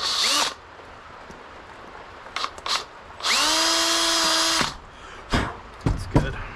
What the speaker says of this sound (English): I'm gonna have to drill it out before we install that sling stud